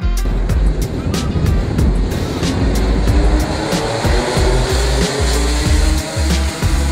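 Sealed Rotax 125 Max two-stroke racing kart engines at the 2008 Rotax Max Challenge Grand Finals, a dense, continuous loud drone of many karts running together, with a steady roar and occasional sharper bursts throughout.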